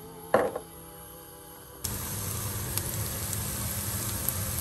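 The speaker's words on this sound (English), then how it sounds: "I'm gonna fry the onions a little bit until they get a little bit translucent" Onions frying in a pan for chicken curry, a steady close crackling sizzle that jumps louder partway through after a brief clink, then continues with small pops.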